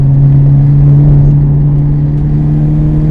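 A modified Hyundai Genesis Coupe 2.0T pulls out of a corner. Its engine drones loud and close as a steady low hum from inside the car, without a sharp rev rise.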